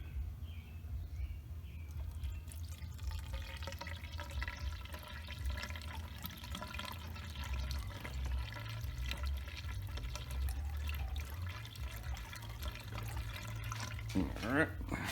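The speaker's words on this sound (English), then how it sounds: "So we're just going to put a little water in here." Water is poured from a container into the washer fluid reservoir of a BMW 650i, a soft, continuous trickle and splash at moderate distance, fairly quiet throughout and ending with a brief louder gurgle.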